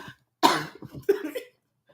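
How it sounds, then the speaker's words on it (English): Someone coughs in an audience at a comedy talk show: two short, harsh coughs, close and distinct, separated by a brief pause, with silence before and after. "As soon as they start someone coughing."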